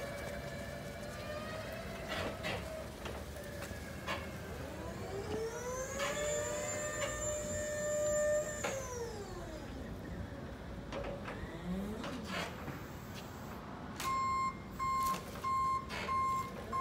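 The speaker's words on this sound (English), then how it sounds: "That's a bendy forklift." A bendy forklift works in a warehouse in Hereford, its reversing alarm beeping and wailing in repeated tones over engine rumble, with a sustained rising and falling tone in the middle and rapid high beeps near the end, while people talk faintly.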